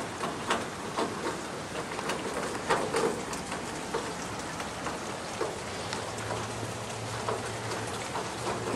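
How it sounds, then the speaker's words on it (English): Steady rain pattering on surfaces after a fast-moving squall line with hail near Stone Mountain, Georgia, a dense even hiss with scattered drops and a faint low rumble, no voices. "Okay, squall line just passed through."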